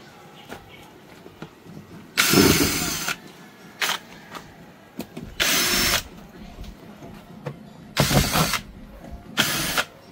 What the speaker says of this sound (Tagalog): Tanggalin ito ng screw.